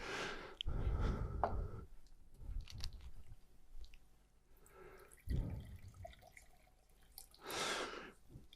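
During a conference talk on mental health, water is poured for drinking in several short splashing bursts separated by quiet pauses, fairly close and without speech.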